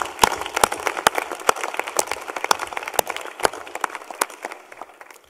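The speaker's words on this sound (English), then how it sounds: "I think this deserves a round of applause." Applause fills a plenary session hall of a wildlife convention, sustained clapping from a large audience with sharp individual claps standing out, steady throughout and tapering slightly near the end.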